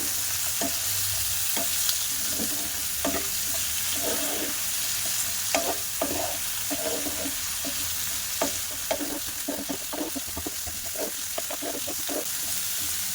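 Tomato, cashew, garlic and green chilli masala lightly frying in a pan, a constant sizzle broken by frequent rhythmic stirring scrapes and spatula taps throughout, no speech.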